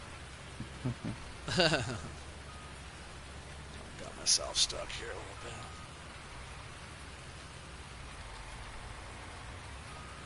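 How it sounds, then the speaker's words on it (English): Steady rain hisses across a farm field in a PS4 farming game during harvest, continuous from start to finish, with someone speaking briefly over it and a few dull thumps early on. "Oh my god, with this rain on our farm, we'd be done"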